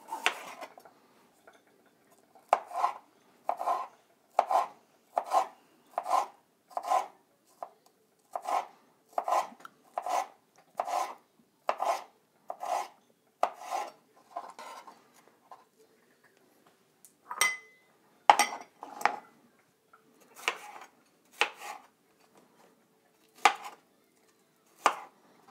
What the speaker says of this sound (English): bell pepper, and we're going to slice it into thin strips